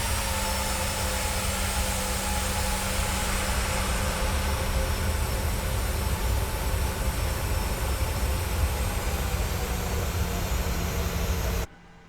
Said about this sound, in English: Let's add a little bit of power and taxi to runway 27.